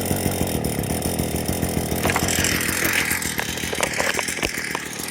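Proyama multi tool's small two-stroke engine started without priming or choke, breaking into a loud, close, buzzing chainsaw-like run that continues steadily to the end.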